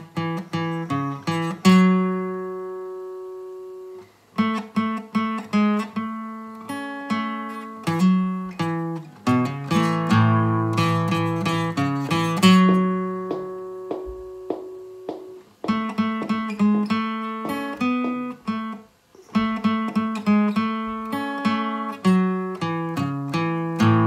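Guitar playing a riff, with hammer-ons and plucked notes in flowing phrases, close and clear with short pauses between passages and no talk.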